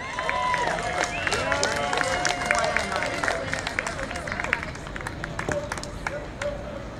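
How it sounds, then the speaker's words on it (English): An outdoor crowd at the 2017 March for Science applauds a performer, sustained clapping mixed with cheers, whoops and whistles, fairly loud and continuous across the whole stretch. "Everyone, please give a big round of applause to Tim Griffin."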